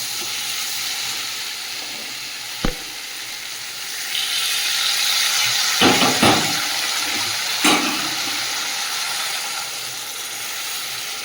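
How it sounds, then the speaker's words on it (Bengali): Water poured into a pan of sautéed vegetables with taro sets off a loud, steady hiss of steam that starts a few seconds in and keeps going, with a few sharp clinks from the pan. No one speaks. "সবজিটা খুব সুন্দর কষিয়ে নিয়েছি, এবার জল দিয়ে দেবো।"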